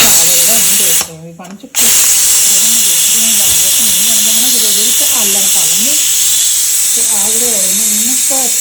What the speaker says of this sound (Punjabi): ਇੱਧਰ ਆਪਾਂ ਸਬਜ਼ੀ ਨੂੰ ਤੜਕਾ ਲਾਉਨੇ ਆ